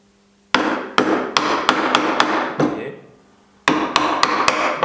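A flat chisel struck by a mallet into chestnut wood during bas-relief furniture carving gives a string of sharp, close knocks at a steady rhythm, then a brief lull before the blows resume.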